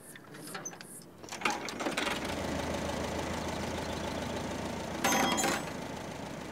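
A tractor engine cranks and catches, then settles into a steady mechanical chugging with rhythmic knocking, rising briefly louder near the end.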